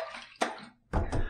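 Water splashes as a face is wetted during a wet shave with Rapira razor blades, two short bursts of splashing close by, separated by a brief quiet gap.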